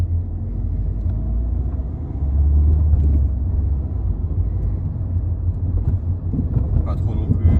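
A Mini Cooper Pack Chili 1.6 diesel with 110 hp accelerates on a road, giving a steady, loud low engine rumble with road noise that swells slightly midway through.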